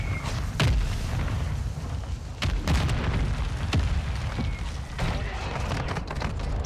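Airstrike explosions in Warzone 2 land as a series of deep, loud booms, several heavy blasts spread across the stretch over constant low rumbling battle noise.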